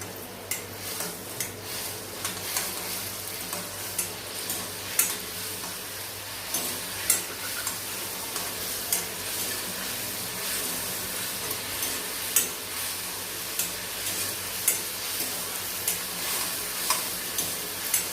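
Lemon juice mixture with turmeric and salt bubbling and sizzling in a pan, with a spoon scraping and stirring in regular strokes and occasional light clinks.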